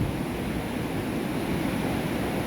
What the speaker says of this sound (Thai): เสียงลมนี่พัดดังมาก